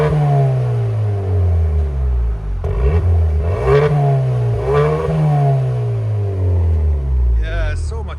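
A 2024 Hyundai Sonata N-Line 2.5L with a Valvetronic Designs valved exhaust and no resonators revs repeatedly, loud and close, its rising and falling drone swelling through several blips before settling.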